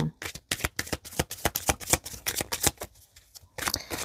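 Tarot cards shuffled in quick riffling bursts, close and crisp, with a short pause before the shuffling resumes and no voices.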